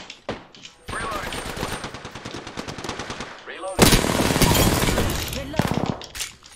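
Bursts of automatic video-game gunfire rattle loudly and continuously, with a short gap before a second dense stretch of shooting; a voice speaks briefly among the shots.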